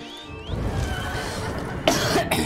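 A man playing Elder Scrolls Online coughs, with two harsh, close coughs following a raspy throat sound over low game ambience.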